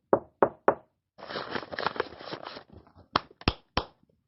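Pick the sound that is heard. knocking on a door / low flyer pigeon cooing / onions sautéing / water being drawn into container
knocking on a door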